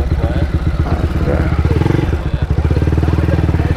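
A Honda motorcycle with a 160 cc engine runs close by with a loud, steady pulsing thrum throughout, while voices talk over it.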